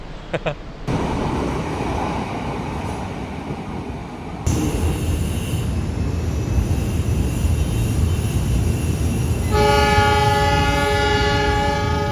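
Parahyangan passenger train in Indonesia rumbling past, with loud, continuous wheel and carriage noise. A sustained, tonal horn blast sounds near the end.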